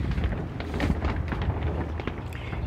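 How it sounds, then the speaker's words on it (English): Steady outdoor wind rushing and buffeting the microphone beside a garden polytunnel, a continuous broadband roar with gusty fluctuations and no voices. "It's kind of windy out today."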